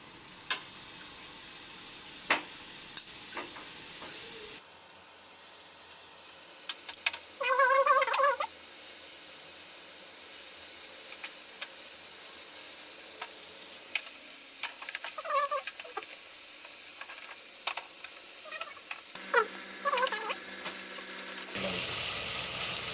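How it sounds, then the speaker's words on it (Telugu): Pieces of fish fry in oil on an old dosa pan, producing a continuous crackling sizzle with bursts of sharper spattering pops, a few louder clicks, and a brief dip in level partway through. "ఇట్లా దోశలు వేయించుకున్నట్టు వేయించుకోవాలి."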